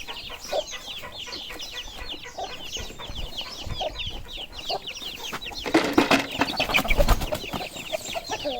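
A flock of Aseel chickens and roosters clucks busily and continuously, growing louder and more agitated for a few seconds near the end.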